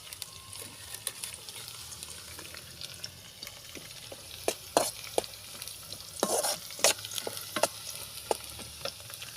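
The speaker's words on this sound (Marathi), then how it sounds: "कांदे आणि मिरची चांगली होऊ द्यायची तेलामध्ये" Onions and green chillies fry in oil for tarri poha, a continuous close sizzle with irregular crackles and clicks of a spoon stirring in the pan, a few louder scrapes near the end, and no one talking.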